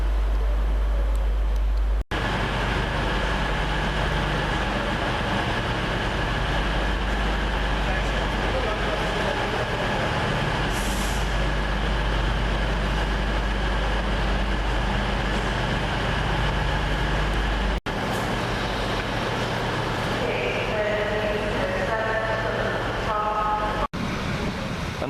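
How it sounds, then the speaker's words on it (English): Continuous traffic and rail rumble outside York train station, with a passing vehicle drone, brief tones near the end and occasional talk. "And that's the outside of the train station."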